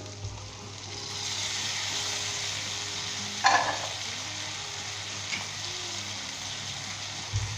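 Tomatoes and green chillies fry in a pan for a Lahori bhindi sabzi, with a steady hiss of sizzling, one sharp clatter of stirring midway, and a few softer scrapes.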